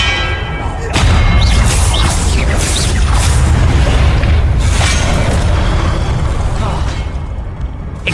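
Booming spell explosions from a Confringo cast in the Hogwarts Legacy video game, a dense, loud sustained rumble after a quieter opening second, with burst accents throughout and a slight fade near the end.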